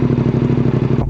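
A warmed-up Suzuki GSX-8S motorcycle exhaust on the move, giving a steady, loud, rhythmic low throb of close pulses that cuts off abruptly at the end.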